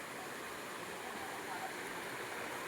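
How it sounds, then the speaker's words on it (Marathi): A main waterfall and stream rush in a constant, broad roar along a forest trail in the Konkan region, close and steady. "he main waterfall"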